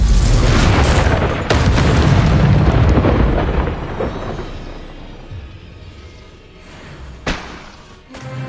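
A blasting-spell explosion from the Hogwarts Legacy video game lands as a loud, sustained boom, rumbling and decaying over several seconds before a sharp crack near the end, with no talking.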